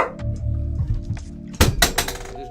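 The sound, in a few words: chair dropped on the floor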